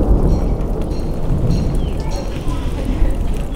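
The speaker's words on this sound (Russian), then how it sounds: "Будем считать, что это тропический дождь." Steady heavy rain pours down in Nikita, Crimea, a dense hiss of drops on surfaces with a low rumbling underneath, continuous throughout.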